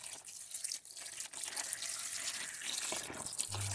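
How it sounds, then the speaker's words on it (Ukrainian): Steady splashing of clean well water pouring continuously into a container, a soft, even rush close by with no voices. "Буду заливати криничною чистою водою."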